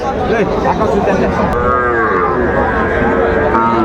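Young bull calves at a cattle market moo loudly and close, one long drawn-out low call filling most of the stretch over a murmur of crowd chatter.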